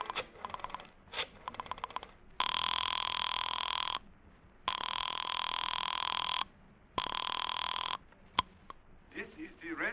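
In a radio drama, a telephone rings after a number is dialed, in three long, loud electronic ring bursts separated by short gaps. Softer clicks and handling noises come before the rings, and a voice briefly begins at the end.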